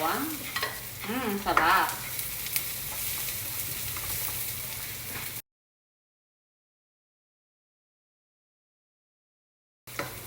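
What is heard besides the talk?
lots of garlic frying in a pan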